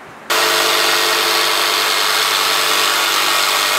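Wood router cutting into pallet wood in a workshop, making a notch for a tool handle: a loud, steady high-pitched whine with a constant hum that starts abruptly and runs continuously without pause.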